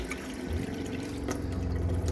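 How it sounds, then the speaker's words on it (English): A Hemenway Shadow Cruiser camper's water pump running while the sink faucet flows, a continuous low mechanical hum beneath a steady splash of running water, close and fairly loud with no talk. "You hear that water pump run, and then it shuts off."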